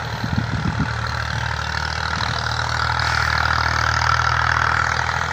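A tractor works farmland into strips for sowing berseem, its engine a steady mid-low drone, close and fairly loud, with a few heavier thumping pulses in the first couple of seconds.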